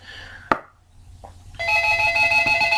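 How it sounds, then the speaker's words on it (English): A telephone ringing inside a house: after a sharp knock and a short pause, a loud, steady electronic ring starts and carries on to the end, with no one talking. "and there's the phone"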